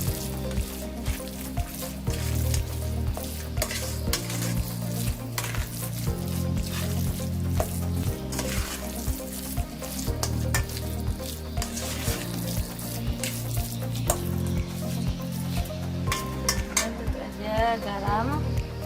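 Shrimp with oyster sauce is stirred in a frying pan, with rhythmic scraping and clinking of the utensil against the pan over a soft sizzle, steady and close throughout.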